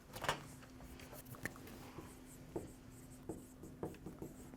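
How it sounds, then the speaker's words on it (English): A word is written by hand on a lecture board, giving faint, scratchy strokes in short irregular bursts in a quiet room. "I'll write that word for you."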